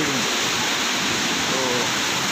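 Heavy, full-flowing water at Bisle Ghat, a waterfall or stream in spate, roars as a loud, steady, dense wash of noise close by, with no breaks.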